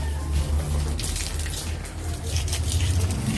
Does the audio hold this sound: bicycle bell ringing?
no